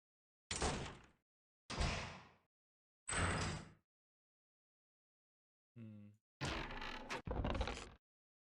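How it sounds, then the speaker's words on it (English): A locked door being tried in an RPG game: separate short rattling bursts of a handle and frame jiggling, three spaced jolts, a pause, then a brief creak and two longer rattles close together, with no voices. "I want like a jug jug, like you're trying the door."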